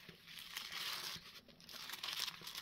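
Patterned tissue paper crinkling and rustling as it is handled, a close, bright, papery crackle in uneven bursts with a brief pause midway.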